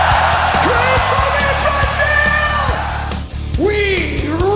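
At a heavy metal concert in Brazil, a loud crowd yells and whoops in sustained, overlapping shouts, with drum and bass thumps pulsing underneath and rising cries near the end.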